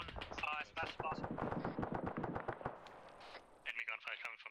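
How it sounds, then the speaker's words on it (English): Bursts of machine gun fire in the military shooter Arma 3 crackle fast and close, mixed under overlapping radio-style voices talking throughout. "Either that or the machine gun."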